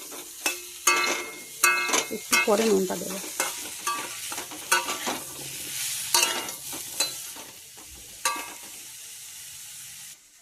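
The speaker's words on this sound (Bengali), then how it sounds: "এগুলো ভালোভাবে ভেজে নেবো এর সাথে।" Ground spices, coriander powder among them, fry with a fish head in a pan for a bitter note shak chorchori, with sharp sizzling and repeated scraping stirs in uneven bursts while someone speaks briefly.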